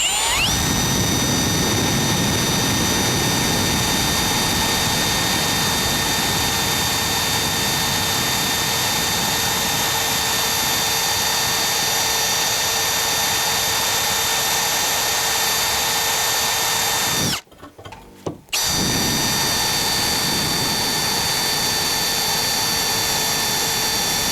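A Milwaukee M18 FPD2 cordless drill-driver runs at first speed with a loud, steady motor whine, cutting out briefly near the end before resuming.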